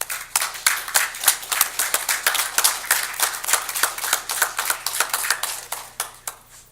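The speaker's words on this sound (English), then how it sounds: "how about one more round of applause for them?" Applause from a modest audience at a town board of commissioners meeting: a steady patter of individual hand claps with clear separate strikes, fairly close and moderately loud, fading out at the end, with no talk over it.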